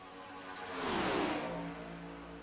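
Sim race cars sweep past on the Daytona oval in a racing video game, one engine rising and fading in a smooth whoosh over a couple of seconds against a steady engine drone.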